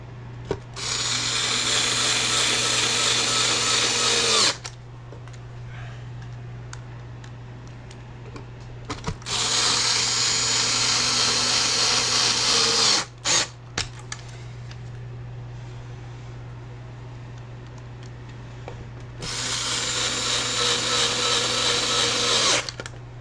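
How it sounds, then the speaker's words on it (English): Power screwdriver whirring in three long bursts of about four seconds each, driving screws back into the bridge of a Telecaster copy guitar, with short clicks and quiet handling between bursts and a steady low hum underneath. "I'm going to go ahead and put the screws back in place in the bridge."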